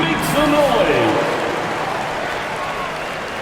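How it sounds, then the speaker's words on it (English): Arena crowd applause in the NBA 2K26 basketball video game, a dense steady patter of clapping fading slightly over a few seconds, with a voice heard over it. "Fans, please give a big round of applause."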